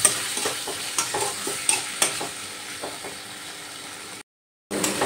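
Bean curry being stirred in a pan after chopped coriander is scattered over, a steady scraping and light sizzle with spoon clicks, continuous and close, ending in a brief gap of silence.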